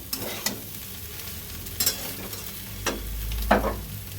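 Potatoes and soybean chunks fry in a pan with a steady broadband sizzle, broken by a few sharp scraping stirs of a utensil, close and fairly loud, no talking.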